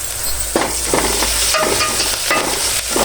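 Broad beans fry in a pan for curry while being stirred, a steady sizzle with several scraping strokes of the spoon at irregular intervals, close and fairly loud, with no speech.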